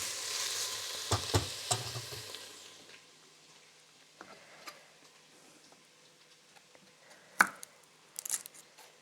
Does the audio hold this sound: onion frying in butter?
yes